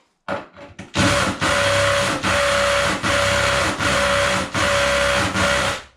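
Drill boring through porcelain tile, a loud harsh grinding whine after a few short starts, running in steady bursts with brief dips as the drill is pumped, no talking.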